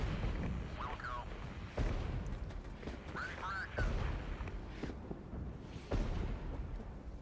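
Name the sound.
artillery strike in Regiments video game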